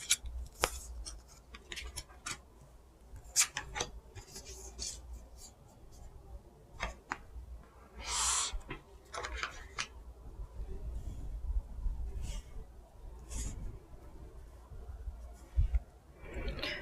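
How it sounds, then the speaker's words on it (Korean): Tarot cards laid out for a weekly reading: a string of light, crisp slaps and slides of cards on a table, close and distinct, with soft brushing between and no talking. "이번 주 주간 운세 카드 나열 해보도록 하겠습니다"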